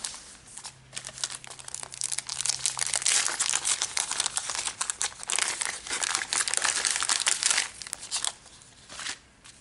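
A plastic ephemera package from a scrapbooking club kit being opened and handled, loud close crinkling and crackling that runs continuously with brief pauses and a few tearing rustles.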